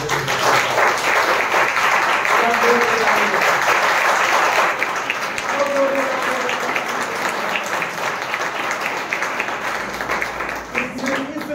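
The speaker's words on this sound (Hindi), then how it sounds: "ताली बजा" Church congregation at a Hindi sermon breaking into sustained applause, dense steady clapping that fades slightly toward the end, with a few faint voices mixed in.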